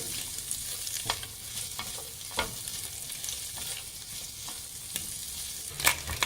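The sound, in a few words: stirring vegetables frying in a pan with salt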